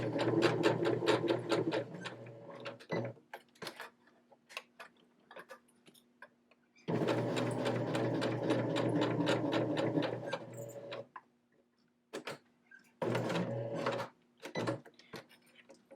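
A sewing machine stitches around the outside edge of a small fabric hexagon keychain, running in steady rapid bursts with short pauses as the needle stays down and the piece is turned, close and fairly loud.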